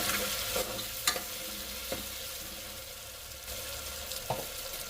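A sizzling onion and tomato mixture is stirred in a hot pan for a green peas rassa bhaji. A steady, close frying hiss runs throughout, broken by a few soft scrapes of the spoon.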